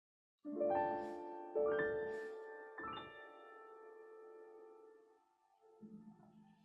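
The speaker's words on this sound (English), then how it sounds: "It's the resonance of the body itself and the sound of all of those strings resonating at one time." Casio Privia digital piano played with the damper pedal held, three struck chords blooming into a long sustained ring of sympathetic string and body resonance that slowly decays, followed by a softer low chord near the end.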